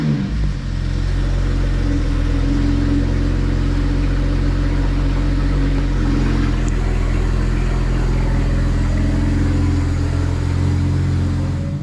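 A BMW N54 engine with misfires runs steadily at a low, droning hum, close and loud throughout, without speech.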